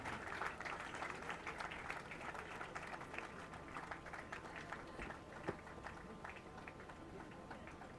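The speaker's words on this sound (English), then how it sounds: "A big round of applause for winner of the women's open pair, the Sri Lanka Army." An audience at the Sri Lanka Rowing Nationals award ceremony applauds the winners of the women's open pair with a steady, moderately distant wash of clapping that holds at an even level throughout.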